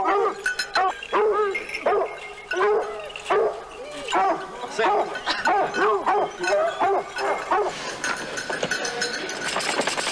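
A pack of Porcelaine hunting dogs bays and barks in thick woodland cover during a hunt, repeated loud overlapping cries in bursts that keep up nearly nonstop.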